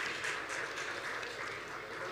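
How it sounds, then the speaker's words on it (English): A conference audience applauds in a hall during a break announcement, a steady dense patter of clapping that holds evenly for a couple of seconds at moderate distance. "may I request a round of applause for Ari Rogers for sponsoring the tea and coffee"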